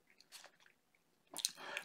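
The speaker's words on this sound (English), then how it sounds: "obnoxiously chewing on some red vine licorice sticks" Red Vine licorice sticks being chewed close to a webcam microphone give two soft clusters of wet, crunchy bites separated by a pause, quiet and with no speech.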